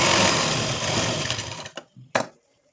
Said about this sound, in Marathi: स्टिच करू आपण.